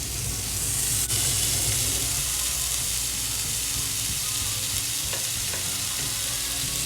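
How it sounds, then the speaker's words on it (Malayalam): Salmon fillets sear in a hot, dry pan with no oil, giving a steady, close sizzle that runs the whole time at an even level with a few soft clicks of handling. "ഇനി പാനൊന്ന് ചൂടായതിന് ശേഷം ഓരോ മീൻ വീതം വെച്ച് കൊടുക്കാം."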